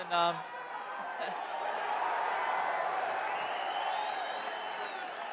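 The Perth crowd at a UFC 305 press conference applauds in a faint, steady wash of distant clapping and crowd noise that holds evenly throughout, with a brief louder sound at the very start.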